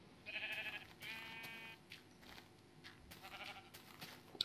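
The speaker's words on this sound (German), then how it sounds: "Hier spackt ein Schaf um." Sheep in the Minecraft video game bleating: two distinct nasal bleats in quick succession, clear and close, followed by faint scattered game sounds.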